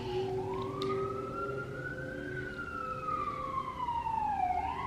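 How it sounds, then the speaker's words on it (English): Emergency vehicle sirens wail outside, a rising and falling tone sweeping slowly across several seconds, somewhat distant and muffled over steady background noise. "Sorry for the sirens outside."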